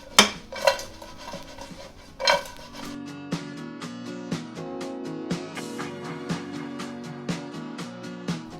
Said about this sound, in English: Just sprinkle them all in. And we give it a toss.